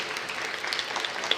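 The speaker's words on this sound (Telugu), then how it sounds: "గట్టిగా చప్పట్లు కొట్టండి" Applause from an audience, a steady wash of many hands clapping at moderate volume with a few sharper claps standing out.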